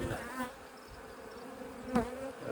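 Honeybees from a queenless hive buzz steadily and close, a continuous droning hum with a couple of louder swells as bees pass near.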